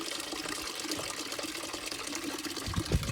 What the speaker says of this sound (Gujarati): અહીંયા તપેલું ભરાય છે પાણીનું